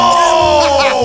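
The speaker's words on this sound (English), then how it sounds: "That was a scream." A loud, sustained yelling scream rings out over a crowd, with a falling pitch across about a second and other voices shouting underneath.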